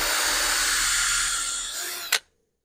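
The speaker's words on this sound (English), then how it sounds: "I drill a pilot hole" A power drill bores a pilot hole in wood for a butterfly stool, a loud steady whirring whine that runs for about two seconds, then a brief clunk as it stops and silence follows.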